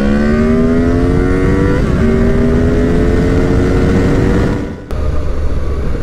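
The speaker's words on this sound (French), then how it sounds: "C'est une Honda VFR 800F de 2016." A 2016 Honda VFR 800F motorcycle engine revs loud and steady, its pitch climbing in long sweeps before a sudden cut and a quick restart near the end.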